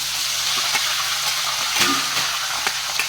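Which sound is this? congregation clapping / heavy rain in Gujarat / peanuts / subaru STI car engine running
peanuts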